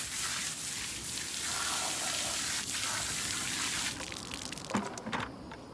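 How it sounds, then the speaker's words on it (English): A hose sprays water to rinse a car during a wash, a continuous hiss and gush that runs steadily for several seconds, then softens and breaks into drips and splashes at the end. "I'm going to spray it off again."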